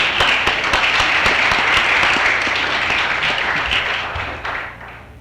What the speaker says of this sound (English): Let's acknowledge their effort with a round of applause.